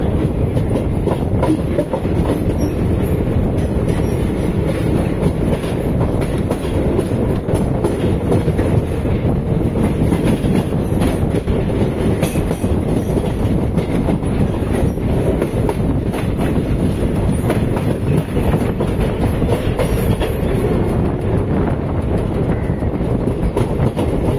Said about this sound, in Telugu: అదే ట్రైన్ గురువాయూర్ ఎక్స్ప్రెస్